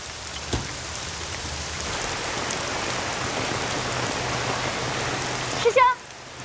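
Heavy rain pours down in a dense, continuous roar close by. A sharp knock comes near the start, and a brief voice-like squeak cuts through just before the end.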